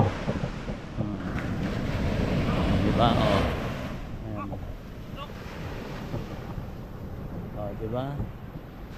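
Sea waves surging and washing onto the shore under steady wind rumble, with a loud swell near the middle; people talk excitedly over the surf throughout.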